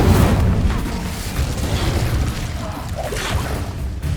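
Spell blasts from Hogwarts Legacy, Confringo and Incendio, boom out in a dense, sustained barrage of low rumbling bursts with a whooshing edge, loud and continuous across the whole stretch.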